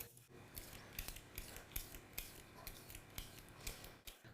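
A peeler scraping the lower stalks of green asparagus, a steady run of rasping strokes in quick, irregular rhythm, close and fairly quiet with no talk.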